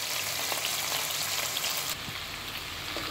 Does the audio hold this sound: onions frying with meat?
yes